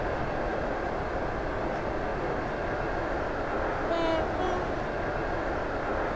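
A train in the video game Stepford County Railway running steadily with a constant low rumble and rattling roar, a brief faint tonal whine rising briefly near the middle.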